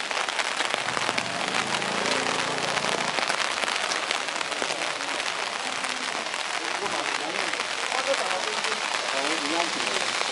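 Rain falls steadily and densely on surfaces outdoors at the Kakunodate samurai district, a continuous close hiss and patter, with a voice speaking over the start.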